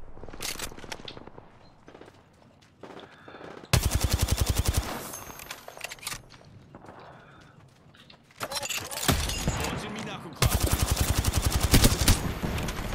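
Rapid automatic gunfire from a terrible-handling gun in a Counter-Strike or Apex Legends match, loud close bursts of sustained rattling shots with pauses between, broken up by quieter stretches of game noise.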